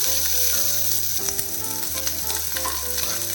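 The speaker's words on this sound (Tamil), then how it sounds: "இந்த பெரிய வெங்காயத்தை சேர்த்துடலாம் பூண்டையும் சேர்த்துடலாம்" Chopped onion and garlic fry in a hot pan for a quick chutney, giving a steady, close sizzle throughout with some tonal background sounds underneath and no talking.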